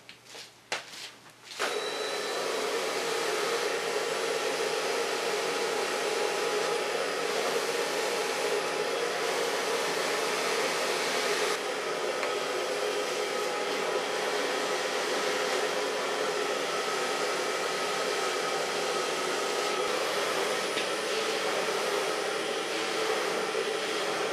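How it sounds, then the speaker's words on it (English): A hair dryer blows hot air while styling hair at the back of the head, starting abruptly after a few clicks and then running loud, steady and whooshing, close to the listener, with no talking. "Now part the hair again over the center line of the back and start blow drying in the back."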